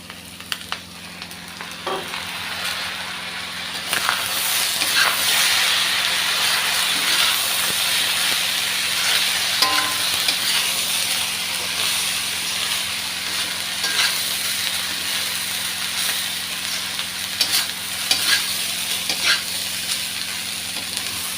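Chinese fried rice is stir-fried with sauce in a kadai, giving a loud, continuous hissing sizzle with repeated scraping and clanking of the spatula against the pan, and no voices.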